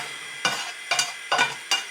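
Four short bursts of sizzling as meat is tipped into a hot saucepan, each a quick hiss that fades, spaced about half a second apart.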